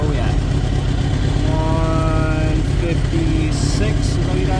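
A motorcycle engine warmed up to operating temperature during repair and modification work, running steadily and loudly close by, with a voice partly audible over it.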